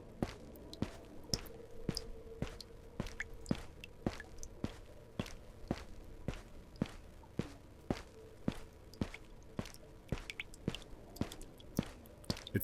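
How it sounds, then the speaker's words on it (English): Steady drips of water falling from sinks in a Backrooms video game, sharp isolated ticks repeating at a regular pace over a quiet, faintly humming background, with no talking. "And then we're just hearing the drips from these sinks."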